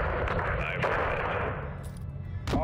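Gunfire and heavy explosions from the video game Modern Warfare 2 (2022) come as booming blasts and rumbling bursts, with short voice callouts in between.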